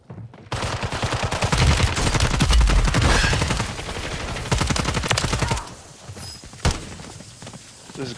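Rapid, loud gunfire from a Call of Duty Warzone match rattles in dense bursts for several seconds, then tapers to a few scattered shots.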